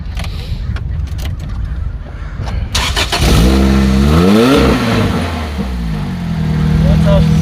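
A 2007 car fitted with a Larini exhaust starts from cold: a loud catch after a quieter lead-in, then a rising rev that drops back and settles into a steady, throaty idle close by.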